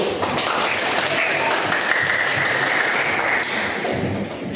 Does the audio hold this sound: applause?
yes